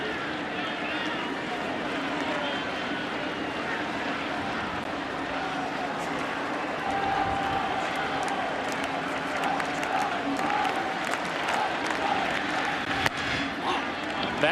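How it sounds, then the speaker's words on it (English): Boston Red Sox fans in a ballpark during the top of the 8th inning of the 2007 ALCS Game 5 build a rhythmic Let's Go Sox chant, a steady crowd roar that swells slightly, with an announcer talking over it. "Boston Red Sox fans who have been here and have been quiet for the most part are now putting together a Let's Go Sox cheer"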